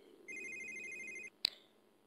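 Phone ringing in The Sims video game: a steady electronic ring tone holds for about a second over quiet game ambience, then cuts off, followed by a short sharp click.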